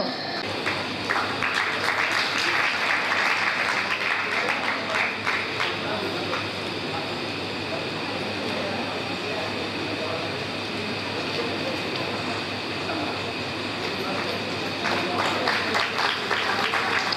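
Applause from an audience at a magazine presentation ceremony, a sustained wash of clapping that swells near the start and again at the end, heard under a steady hum of ventilation and room noise.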